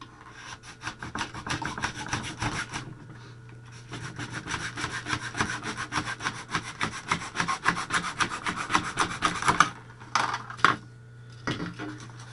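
Sandpaper scraping across the foam leading edge of a hand-built flying wing, heard as a close, steady run of quick rhythmic rubbing strokes that pauses briefly near the end.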